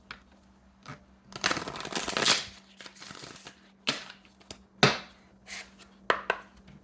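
A deck of tarot cards being shuffled and cut by hand, with bursts of riffling and slapping card noise between short pauses, close and moderately loud.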